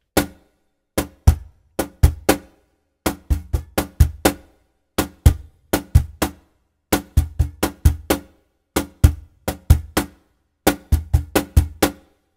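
Cajon struck by hand in a samba de latada pattern, crisp slaps and deeper bass strokes in repeating groups of quick hits separated by short pauses, close and loud with no talking.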